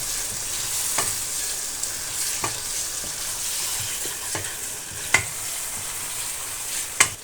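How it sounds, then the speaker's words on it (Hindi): Potatoes and meat fry in masala with a steady soft sizzle, while a spoon scrapes and stirs the pan in occasional sharp clinks and scrapes, close and without speech. "हमारे आलू हमारा गोश्त भुन चुका है, फ्राई हो गया जितना हमने फ्राई करना था"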